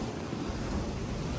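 Wind and waves while sailing a boat between islands in Vanuatu, a loud, continuous broadband rush of wind buffeting the microphone and water washing past, with no speech.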